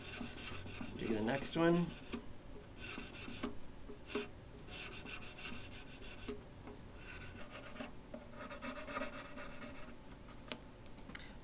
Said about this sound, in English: the sanding stick on the fret and sand it a little bit, and then sand the sides